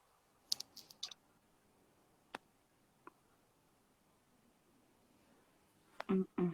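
Sparse clicks on a phone or mouse while selecting a comment during a livestream, a few isolated taps spread out with quiet gaps between, ending in a short cluster of louder clicks.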